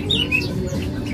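A caged songbird at a bird-selling kiosk gives a quick run of bright, high chirps and short squawky notes close up, over a low murmur of background noise.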